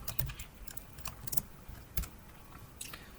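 Computer keyboard being typed on while writing C# code, with irregular close clicks and clacks in short bursts at a moderate level, no talking.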